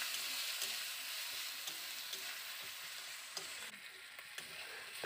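Chili and turmeric powder sizzle and fry with spices in a pan while being stirred for dhokar dalna, a steady, quiet, close crackle with occasional scraping strokes and no voices.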